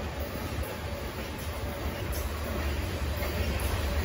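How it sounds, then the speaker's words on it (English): A coal or rock train rolls past on track two, a steady broadband rumble of rail cars with a constant high metallic whine, close and continuous throughout with no talking. "There goes the coal train as well."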